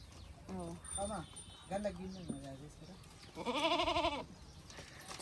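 Several goat bleats, short and wavering, with a longer louder bleat near the end; people talk faintly in the background.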